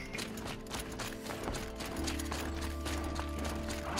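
A horse gallops in the video game Horizon, its hooves hitting in a quick steady clip-clop rhythm under soft game music and ambience at moderate volume.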